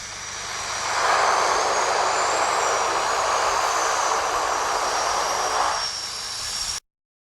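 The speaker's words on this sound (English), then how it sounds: "The pilot must have thought that it's a beautiful day to take this twin otter on a skiing trip." A ski-equipped Twin Otter aircraft lands on snow, its engines giving a loud, steady roar that swells within the first second, holds evenly for several seconds, then cuts off abruptly.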